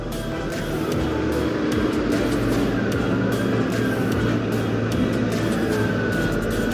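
A Kawasaki ZX25RR four-cylinder motorcycle roars as it is ridden, a continuous loud engine drone with shifting tones and passing traffic noise.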